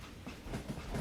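A train in the Western shooter Call of Juarez: Gunslinger rumbles along with a low, steady rolling noise and faint periodic clacks, continuous and fairly close throughout the short stretch.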